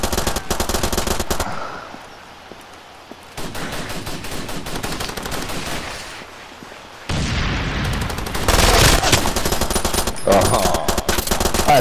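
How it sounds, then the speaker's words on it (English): Sustained gunfire from the video game Far Cry 2, long loud bursts of rapid automatic shots broken by brief pauses, growing heavier toward the end. "I had to put a lot of bullets into you to sit you down."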